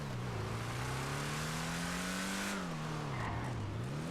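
Lampadati Viseris sports car from a GTA game, its engine revving loudly and steadily with a rising then dipping pitch, tire squeal and skidding toward the end, no talking.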